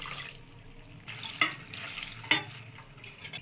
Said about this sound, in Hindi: फिर अच्छी तरह से धुल देंगे। इसमें ठंडा पानी से, ठंडे पानी से धुलेंगे।